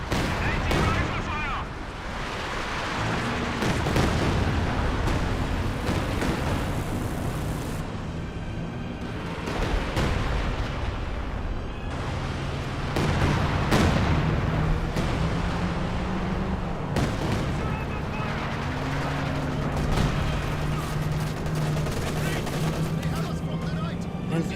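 Panzerwerfer rocket artillery barrage in Company of Heroes 2, a dense continuous rumble of launches and explosions with booming impacts layered through the whole stretch while a commentator talks steadily over it.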